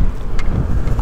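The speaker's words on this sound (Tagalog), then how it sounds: "Lakas ng hangin dito guys." Strong wind buffets the microphone on a motorbike road trip in Tanay, Rizal, a loud, steady roaring rumble with gusty surges throughout.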